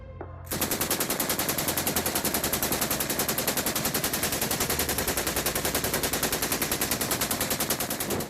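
A machine gun firing a long, unbroken automatic burst at a fast even rate, loud and close, with no voices.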